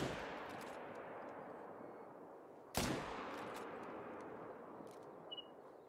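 A single sharp rifle shot cracks out midway through a red deer hunt in a video game. It stands out loud and close against a steady outdoor hiss that otherwise fills the scene.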